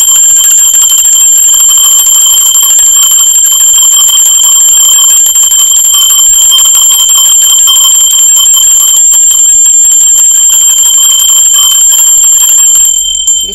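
A bell rings continuously for about thirteen seconds, loud and sustained with bright, steady tones, then cuts off abruptly at the end; no one speaks over it.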